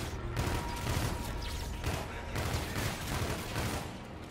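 Sustained rapid gunfire in the Call of Duty: Infinite Warfare campaign, dense bursts of shots blending into a loud, continuous barrage with faint talk mixed in underneath.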